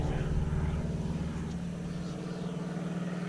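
An aeroplane flies overhead outdoors, a steady broad engine roar that holds for the whole stretch with no other sound standing out.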